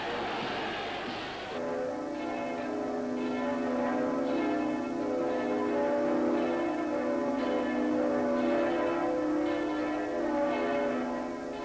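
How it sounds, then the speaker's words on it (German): Church bells ring out from German church towers in March 1933, a dense, sustained peal of overlapping strokes with a steady, slightly uneven rhythm, heard alone at moderate loudness after a brief noisy opening. "Glockengeläute von allen Kirchtürmen Deutschlands verkündete am 21. März 1933 die Vermählung zwischen den Symbolen der alten Größe und der jungen Kraft, wie Adolf Hitler"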